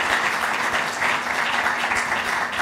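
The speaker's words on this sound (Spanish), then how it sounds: "un aplauso por favor" Audience members applaud a speaker at a tourism marketing seminar, a steady, fairly loud burst of clapping lasting a few seconds with a faint steady hum underneath.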